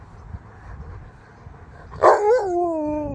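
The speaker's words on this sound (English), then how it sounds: "you keep howling" A husky lets out a single rising, wavering howl close by after a quiet stretch of low background noise, the voice sliding and holding for about a second.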